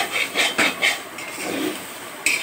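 A utensil stirs ground spice paste and soybeans in a pan, making a few quick clinks and scrapes, then a softer rubbing stir and one last knock against the pan.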